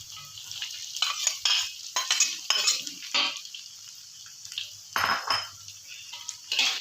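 Corn is stir-fried in a pan, a spatula scraping and clattering against the metal in quick, repeated strokes over a soft sizzle, close and moderately loud.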